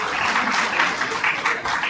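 Dense, sustained audience applause fills the hall at a police performance awards ceremony in a Hyderabad, Sindh hotel, steady and close for the full two seconds with no pause.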